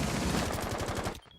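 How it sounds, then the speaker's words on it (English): Rapid automatic gunfire rings out from the top of a staircase during an esports video game match, a dense sustained burst that cuts off abruptly into near silence. "Gunfire from the top of stairs."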